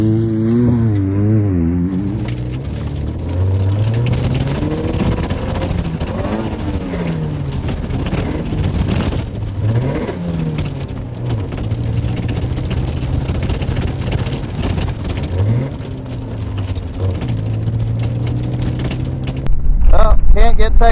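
Porsche 944 rallycross car engine driving hard, revving up and down through the gears with rising and falling pitch over steady wind and road roar, loud and close for about twenty seconds.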